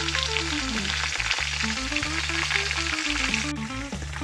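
Carrots and potatoes frying in oil, a steady close sizzle heard under a stepping background melody, with no voices.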